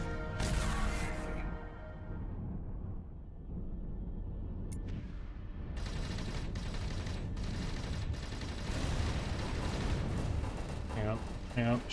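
Spaceship guns firing in Avorion, rapid bursts of booming shots and volleys, loud and sustained across the stretch, with a voice talking at times.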